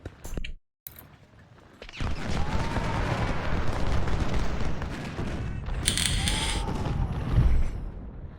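Sniper volleys and artillery fire rumble through a Civil War battle in Ultimate General: Civil War, a dense, continuous roar of gunfire with a brief gap near the start and sharper bursts later, no talking.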